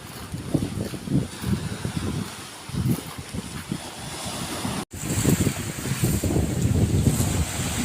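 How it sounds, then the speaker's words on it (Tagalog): Strong surf crashes repeatedly on a white-sand beach at Pasacao during a storm while gusty wind roars across the microphone, loud and continuous, with no voices. "Kaya lang napakalakas ng alon at may bagyo"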